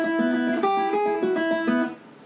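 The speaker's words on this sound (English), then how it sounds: "So this first lick is called the breakdown lick on your PDF." Breakdown lick on guitar in E, ringing open strings mixed with fretted notes in a quick, bouncy picked rhythm, played alone and fairly loud for a couple of seconds.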